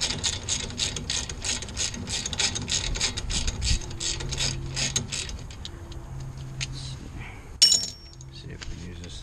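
A hand ratchet breaks loose a 17 mm nut on a car's strut assembly during mobile mechanic work, giving a rapid run of sharp, close clicks for several seconds, then quieter metallic handling and a brief louder clank.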